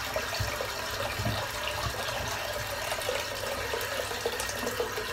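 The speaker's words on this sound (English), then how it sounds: "So let's get some water in the bowl." Tap water running into a shaving bowl before a head shave, a steady hissing rush of flowing water held at a constant low level throughout, close by with no talking.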